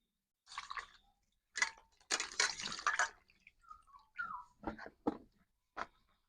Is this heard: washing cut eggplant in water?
yes